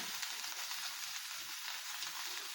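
Grated coconut fries in a pan until golden, a continuous soft hiss of sizzling oil, even and fairly close, with no voices over it.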